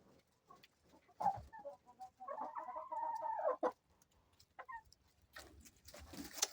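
A rooster crows once, loud and close, amid scattered clucks and farmyard rustling.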